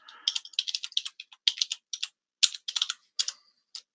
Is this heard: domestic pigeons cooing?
no